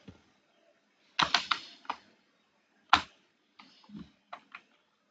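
Computer keyboard typing in short irregular bursts of crisp clicks and key taps, close and clear with quiet gaps between strokes.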